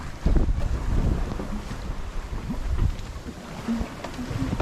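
Wind buffeting the microphone aboard a Rival 32 sailboat on open sea, a loud gusting rumble that swells and eases, with faint water rushing along the hull beneath it.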